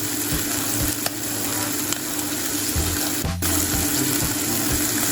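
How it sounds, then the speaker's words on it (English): Onions laid into a hot pot over high heat sizzle and crackle steadily, a close, continuous frying hiss with occasional soft knocks and clatter from the pot. "In the same pot, with the heat still high, I'm going to start by adding a layer of onions at the bottom."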